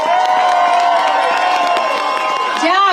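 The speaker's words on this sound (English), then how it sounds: "round of applause to Alexei" A rally crowd in Washington DC marking a year of the Russia-Ukraine war cheers and applauds a wounded Ukrainian soldier. Dense, loud whooping and shouting voices fill the whole stretch, with clapping underneath.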